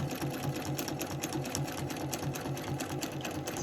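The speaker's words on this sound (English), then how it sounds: "So I'm just going to continue on stitching nice and slowly." A sewing machine stitches a quilt block slowly and steadily, its needle thumping in an even rhythm close by, with no talking.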